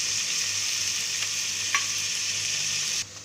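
Onions and small shallots fry in a hot pan with a steady, close sizzle that holds at an even level throughout, with a brief stirring clatter midway before the sound drops off at the end.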